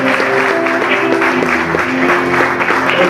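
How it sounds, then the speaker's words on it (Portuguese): A church congregation applauds during an evening service. The sustained crowd clapping is fairly loud and even, and a soft held musical tone runs beneath it. "Você pode aplaudir ao Senhor pela palavra que você recebe nesta noite"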